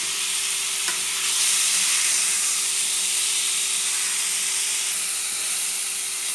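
Jackfruit masala frying in a pan over a medium flame, a steady close sizzle and hiss running throughout with no talk.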